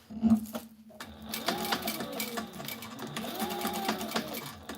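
Sewing machine stitching a Velcro strip onto tactical gear, a close, rapid mechanical chatter that starts after a brief pause and runs steadily in bursts.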